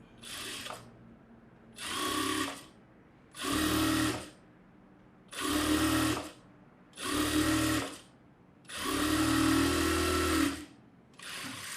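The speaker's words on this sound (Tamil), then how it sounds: "இன்னொரு ஸ்லீவ் எடுத்துருக்கேன் இதுலேயும் அதே மாதிரி தைக்கிறேன்" Sewing machine stitching thread piping onto a sleeve, running in six separate bursts of steady whirring, each a second or two long with short pauses between, the last one longest; close and clear with no talking.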